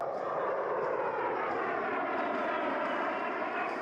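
A-10 Warthog jet aircraft flying: a steady, loud, broadband engine roar held evenly throughout, with no voices.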